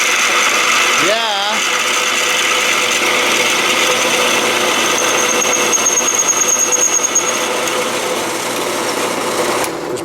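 A power drill drives a hole under load, with a steady high-pitched whine, a squealing pitch swoop early on and a rattly chatter late in the cut, loud and close.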